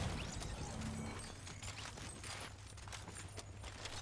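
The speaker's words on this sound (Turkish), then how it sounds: "aşağı uzaktan sıkıyor arkadaş" Distant enemy gunfire in Fortnite, rapid faint cracks repeating in a steady rhythm over a low background hum, without talk.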